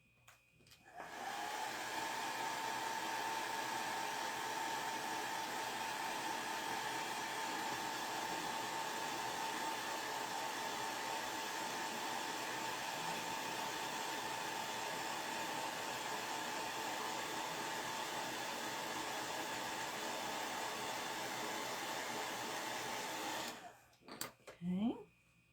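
A hair dryer blows steadily for over twenty seconds to dry a chalk craft project from a Heart and Home Chalk Made kit, a loud continuous whir that cuts off near the end with a few handling clicks.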